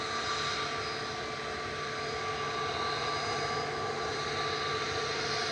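ATR 72 turboprop airliner at Manchester Airport: a loud, continuous propeller and engine drone close by, steady throughout with no talk.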